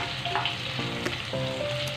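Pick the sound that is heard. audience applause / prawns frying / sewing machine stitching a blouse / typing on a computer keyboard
prawns frying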